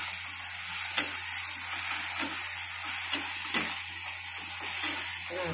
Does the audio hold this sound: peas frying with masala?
yes